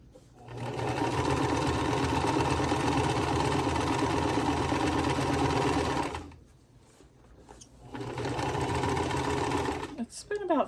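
A sewing machine stitching through a thick quilt block runs in a steady rapid chatter for several seconds, pauses briefly, then resumes at the same fast pace, close and clear.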